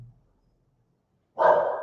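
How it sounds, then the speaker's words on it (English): A dog barks once in the background, a single short bark near the end after near silence. "there's a dog barking in the background"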